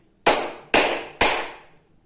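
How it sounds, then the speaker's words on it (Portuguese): Three sharp hand claps in an empty, unfurnished room, evenly spaced about half a second apart, each followed by a long, bright reverberant tail. "contar até 3 e bater 3 palmas"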